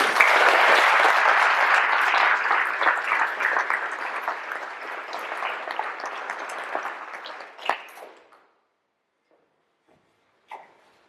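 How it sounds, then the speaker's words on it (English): Audience at a Troop 181 Eagle Court of Honor bursts into sustained, loud applause that gradually thins and fades out around eight seconds, followed by near silence and one last faint clap. "Can we give him one more round of applause?"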